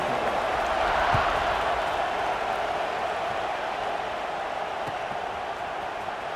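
A stadium crowd roars in the EA Sports NCAA 26 college football video game as a kickoff is set up, a loud, steady wash of cheering that holds throughout with little variation.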